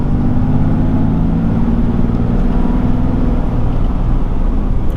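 A 2021 RAM High Output Cummins diesel truck accelerates, its engine giving a steady, loud, low drone that stays close and constant without a break and has no voices over it.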